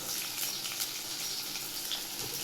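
Chopped onion sautéing lightly in a thick kadai for a Karnataka-style tomato and green peas dish, giving a steady, even sizzle and hiss that stays close and continuous without any voices.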